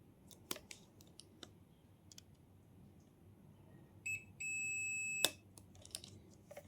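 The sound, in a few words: multimeter continuity beep testing a diode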